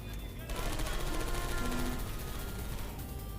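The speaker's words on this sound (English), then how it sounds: "Look out for gunfire." Rapid gunfire from turrets in the video game Portal 2 rattles continuously and loudly for several seconds, dense and unbroken, with faint voice sounds in the background.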